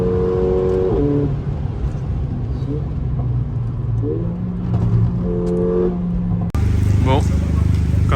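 Mercedes A45 AMG car accelerating on a wet road trip, engine note rising in steady stepped pitch under loud continuous road and cabin noise, with people talking over it.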